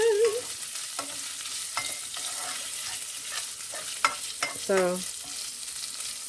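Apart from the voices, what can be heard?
bacon and beef sausage frying in pan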